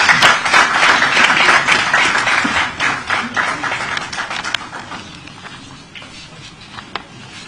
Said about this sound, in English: Let's give him a round of applause as he steps forward.